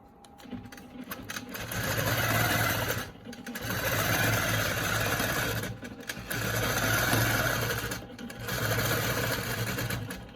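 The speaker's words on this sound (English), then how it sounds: "I'm pulling in with my machine to stay on the ruler." A longarm quilting machine stitches slowly along a ruler, its steady mechanical whir and needle rhythm running in long bursts separated by brief pauses.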